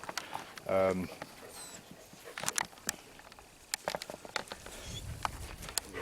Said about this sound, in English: So that's why I'm out with the puppies and introducing you.